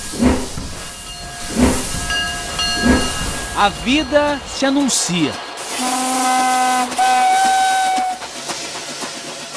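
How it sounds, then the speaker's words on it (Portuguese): A steam locomotive hisses and sounds several loud, sustained whistle blasts, with a voice speaking over the opening hisses. "Ou na lenta contemplação da Maria Fumaça"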